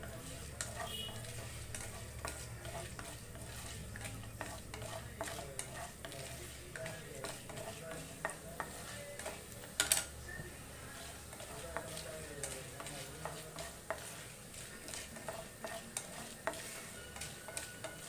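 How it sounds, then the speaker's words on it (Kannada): Whole cloves, cinnamon and cardamom fry in a little oil for a village-style mutton sambar, with a soft steady sizzle broken by small crackles and pops, heard up close alongside occasional stirring. "ಈ ಥರ ಒಂಚೂರು ಎಣ್ಣೆಯಲ್ಲಿ ಸ್ವಲ್ಪ ಸಿಡಿಯೋಂಗೆ, ಲವಂಗ ಸಿಡಿಯುತ್ತೆ ಎಣ್ಣೆಗೆ ಹಾಕಿದ್ರೆ."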